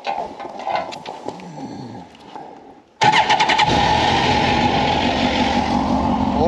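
A 1000cc Suzuki motorcycle engine turns over briefly, falls quiet, then catches and settles into a loud, steady, close idle that continues to the end.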